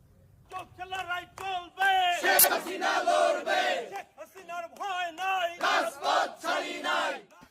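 A crowd of education directorate officials chanting slogans in unison, with loud rhythmic shouted phrases that repeat and swell over several seconds.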